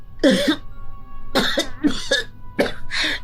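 A series of harsh, close coughs in quick bursts, about five or six, some clustered together with short gaps between.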